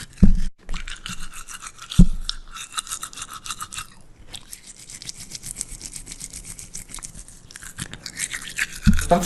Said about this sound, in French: une fille qui se brosse les dents avec de la moutarde et du ketchup